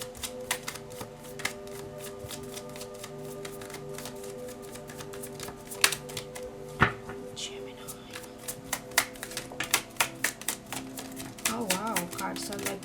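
Tarot cards being shuffled by hand, a steady close riffling patter of rapid soft flicks with sharper snaps toward the end, under a continuous talking voice.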